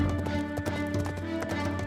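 A horse's hooves clip-clop in a steady, close rhythm as it pulls a body tied behind it through a palace garden in an animated fairy tale, with faint neighing and no speech.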